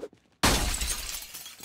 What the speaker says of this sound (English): I should really be smashing all the passenger windows